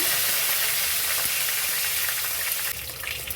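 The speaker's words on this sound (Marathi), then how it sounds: "आपलं तेल गरम झालेलं, थोडं जिरं आणि थोडी हिंग नक्की घाला" Cumin seeds, asafoetida and curry leaves hit hot oil in a pan, giving a loud, steady crackling sizzle that eases slightly near the end.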